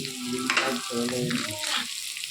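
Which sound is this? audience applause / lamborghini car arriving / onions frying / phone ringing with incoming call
onions frying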